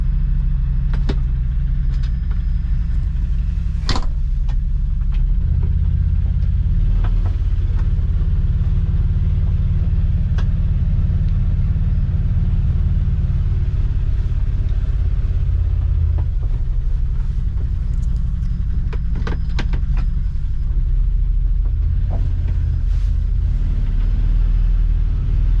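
A UTV's engine runs with a continuous deep, close rumble that holds steady the whole time, broken only by a few faint clicks and knocks.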